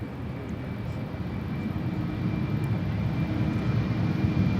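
A KLM jet airliner on its takeoff run from the Polderbaan runway at Schiphol airport, a steady broad engine roar that swells gradually in loudness, heard from a distance without any talk.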